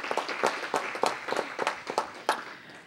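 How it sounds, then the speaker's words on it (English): Audience applause at a city council meeting, a few seconds of scattered, moderately close clapping with irregular sharp claps standing out. "Everyone give him a round of applause as well"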